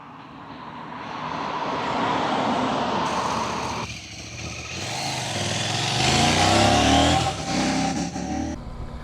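A CF Moto 800 MT adventure motorcycle accelerates on a ride, its engine swelling and dropping through gear changes with loud revving surges and wind rush, no voices.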